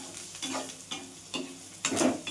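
Golden-brown fried onions with turmeric are stirred in a sizzling pan, with four distinct scraping strokes over a steady, close sizzle.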